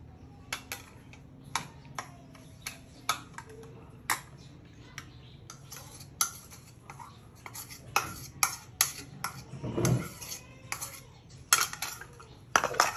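Crust for a strawberry cheesecake being combined with melted butter and two tablespoons of sugar, heard as a run of sharp spoon taps and clinks against a bowl, irregular and close, with a brief scraping swirl toward the end.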